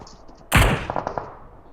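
A single sharp, loud gunshot in a shooting video game, followed by a few quick fainter clicks and pops as the sound trails off.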